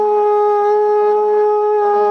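A Japanese horagai conch shell horn blows a steady, bright tone on one pitch with strong harmonics, then shifts briefly to a second note near the end, loud and sustained with no talking.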